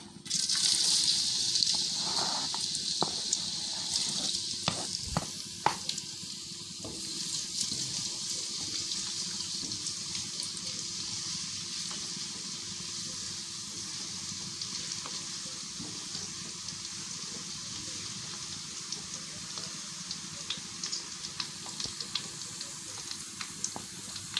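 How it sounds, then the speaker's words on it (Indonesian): Garlic fries in hot oil for a shrimp and green chili sambal, giving a continuous bright sizzling hiss. Scattered utensil clicks and taps sit over it, close and fairly soft, with no one speaking. "Minyaknya sudah panas. Kita akan masukkan bawang putih dulu."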